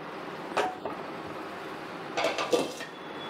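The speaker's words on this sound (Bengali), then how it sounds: "এর মাঝখানে দিয়ে দিচ্ছি এরকম একটা ছোট স্টিলের বাটি" A small steel bowl is set down among burning charcoal, producing two brief metallic knocks and clinks close by against a quiet background, no one talking.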